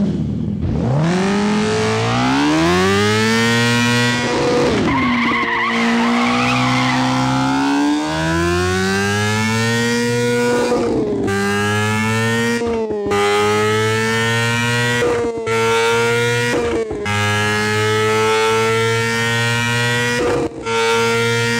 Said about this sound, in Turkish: Şu an şu gördüğünüz 1000cc V4. Şimdi bunu izleyelim. Bunun sesi de bayağı bir güzel.